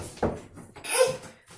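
A door slams shut indoors during a child's angry outburst, a sharp thud around mid-clip followed by a lighter knock, with brief indistinct voice sounds nearby.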